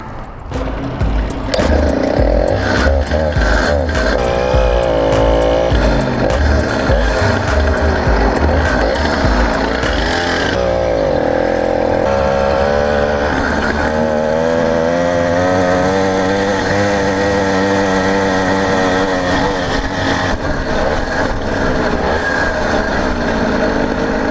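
An 80cc motorized bicycle engine runs loud and steady up close, a raspy two-stroke-style drone with shifting pitch as the throttle rises and falls, continuous throughout with no talk.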